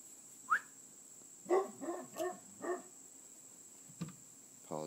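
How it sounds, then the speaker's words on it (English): A dog barks a handful of times in a home with a wax-heating wood stove, a few short separated barks at moderate distance, with no talk over them. "If my female dog barks, somebody's outside."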